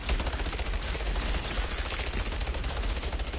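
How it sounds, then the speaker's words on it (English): Rapid, steady gunfire-like bursts from a mortar in the video game Outriders, loud and continuous for a few seconds, with no talk over it. "Somebody's doing the mortar."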